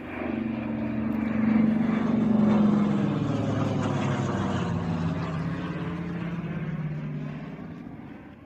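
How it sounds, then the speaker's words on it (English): A propeller aeroplane drones overhead, its engine rising to a peak and then slowly fading with a falling pitch as it passes. "Then the sound for the non-existent aeroplane is added"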